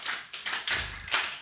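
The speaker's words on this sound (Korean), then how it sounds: "대한민국 하면 이렇게 박수가 저절로 나오는데" Church congregation at a Christmas service clapping after a shouted cheer, a few scattered bursts of hand claps, brief and fairly close.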